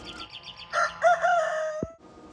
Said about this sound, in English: the rooster announces the day